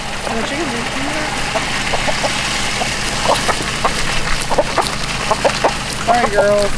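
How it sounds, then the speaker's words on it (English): Chickens, both hens and roosters, cluck in short scattered bursts close by on an outdoor site where footings are being dug for an off-grid house, with people talking over them. "Oh, the chickens are coming."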